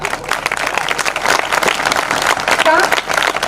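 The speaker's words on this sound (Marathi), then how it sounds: "आमच्या या महिला वर्गासाठी एकदा टाळ्या वाजवा बरं तुम्ही सगळे" An audience at a kirtan applauds for the women, brisk and dense clapping filling the whole moment at close range with some crowd murmur.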